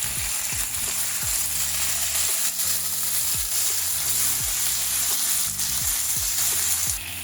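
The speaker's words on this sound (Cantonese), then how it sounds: "輕輕煎香咗啲蒜頭先，放啲番茄落去，兜到佢溶溶地半熟咁樣" Garlic and tomatoes frying in a pan for satay beef, a steady close sizzle running throughout with faint stirring and no talk.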